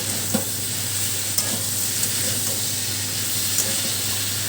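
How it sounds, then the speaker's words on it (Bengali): Mustard paste with sugar and spices being stirred in a hot pan for a prawn and snake gourd dish: a steady close sizzle with faint scraping strokes of the spoon, no voices. "ভালো করে মশলাগুলোর সাথে নেড়ে চেড়ে নেবো"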